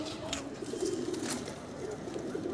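A pigeon coos in low, repeated throaty calls at close range against faint background noise.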